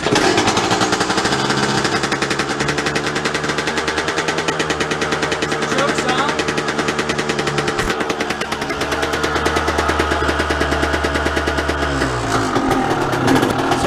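A dirt bike in winter, nearly out of gas, is kick-started and runs with a loud, rapid, rattling two-stroke-style engine putter that revs and drops near the end, close and continuous throughout.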